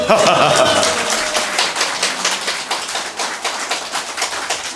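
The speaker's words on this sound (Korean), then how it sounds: "이분들에게 박수 한번 쳐주십시오" Audience clapping at a political lecture event in Daegu, a dense spread of many hands clapping together at close range and fairly loud, with some tonal voice or noise early on, steady through the clip.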